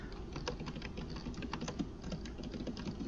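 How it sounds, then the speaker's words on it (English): Rapid clicking of keys on a laptop computer keyboard, close and steady for the whole stretch with no talk over it. "guys can hear me typing"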